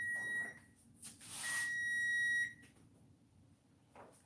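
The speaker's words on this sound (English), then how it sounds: "There's our timer." An electronic kitchen timer for candy bacon baking in an oven gives a couple of shrill, steady beeps, one short and one longer, with a clatter between them and no talking.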